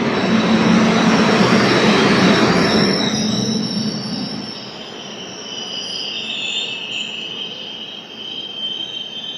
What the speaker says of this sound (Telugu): 12743 వస్తుంది. విక్రమసింహపురి అమరావతి ఎక్స్ప్రెస్.